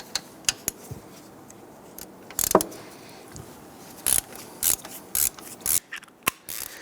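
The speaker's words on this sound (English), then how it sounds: "we're going to go ahead, loosen, and remove the 3 bolts securing our alternator" Sharp ratchet clicks come in short bursts and single ticks as a 13mm alternator bolt is loosened on a 1999-2004 Jeep Grand Cherokee 4.7L V8, close and crisp over a quiet background.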